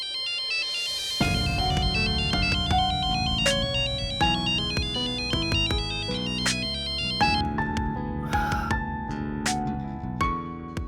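A phone ringtone plays an unanswered call as a loud, continuous melodic tune that repeats for about eleven seconds. No one speaks over it.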